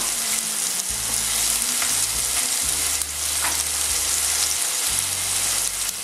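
A turkey leg browns in a hot pan, giving a loud, dense, unbroken sizzle and spatter close to the microphone for several seconds, over a low steady hum.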